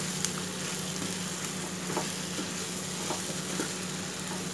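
Sliced okra fries in a pan of mustard spice paste, giving a steady close sizzle with soft scraping stir strokes at irregular intervals and no talking.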